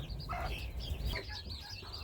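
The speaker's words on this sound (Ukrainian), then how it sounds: "А тут зараз в мене вже Курчата бентамки." Soft clucking and cheeping of bantam chicks close by, intermittent over a low background hum, with no talking.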